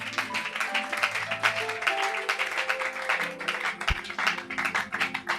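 A church congregation clapping in praise to God, rapid rhythmic applause from many people with a low musical tone underneath and a single thump near the end.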